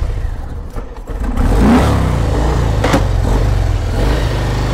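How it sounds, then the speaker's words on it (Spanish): A 2019 Harley-Davidson Fat Boy engine rumbles loudly up close, dipping briefly before surging into a sustained, deep revving roar that holds steady for several seconds. "review de la Harley Davidson Fatboy. Vamos a escucharlo."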